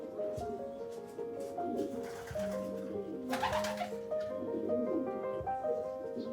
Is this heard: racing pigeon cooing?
yes